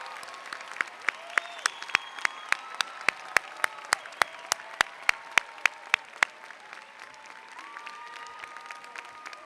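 An audience at a commencement ceremony applauds military veterans, a crowd's dense steady clapping that fills the hall, with sharp individual claps standing out and no talk over it.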